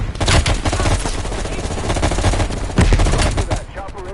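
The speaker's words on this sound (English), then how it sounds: "At the fork, you followed the road right toward the sound of gunfire." Sustained M16 rifle fire in a firefight from Call of Duty Black Ops Cold War, with rapid overlapping bursts and booming reports that stay loud and dense throughout, peaking again near the end.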